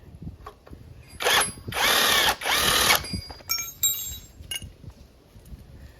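A ratchet wrench works loose bolts on a lawn edger, giving a few close, loud whirring bursts, each lasting about a second, followed by scattered metallic clicks and clatter as the part comes free.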